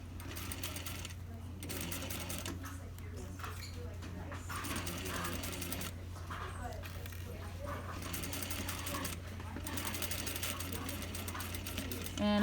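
A sewing machine runs in steady mechanical bursts as it back stitches along a lapped zipper, its continuous whirring and ticking punctuated by short pauses, with a person talking quietly over it.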